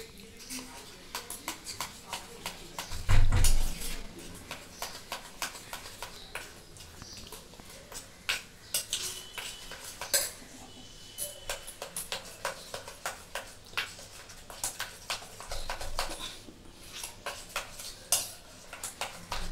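Spoon stirring powdered milk with a little liquid milk in a bowl for an egg rabri dessert, rapid repeated clinks and scrapes against the bowl, with a voice talking at times.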